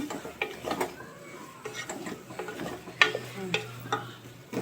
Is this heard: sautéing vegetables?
yes